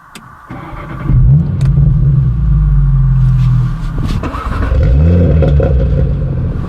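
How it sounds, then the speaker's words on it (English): A car engine cranks and catches, settling into a loud, deep idle close by, then gives a couple of rising revs with burbling from the exhaust. "And we get some nice little burbles with that."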